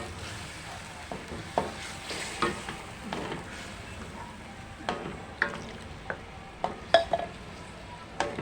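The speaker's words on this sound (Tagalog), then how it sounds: "Then, lagay natin yung first yung sauce." Tuna afritada simmers and sizzles in a pan as sauce is added, with a steady soft frying hiss broken by irregular clinks and scrapes of stirring, fairly quiet and close.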